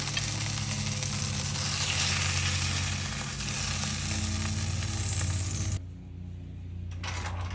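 Sausage sizzling in a pan during a campsite breakfast at a state park, a loud, close, continuous frying hiss that cuts out abruptly near the end, then a quieter hiss returns.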